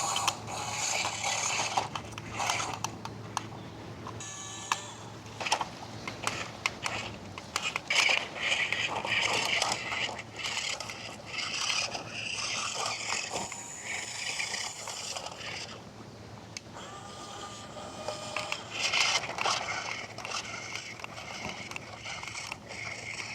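A Vevor Huina 1556 1/18-scale RC dump truck tips its bed to dump its load, giving small whirring servo and gear noises with clicks, rattles and scraping that start and stop irregularly, close up and fairly quiet.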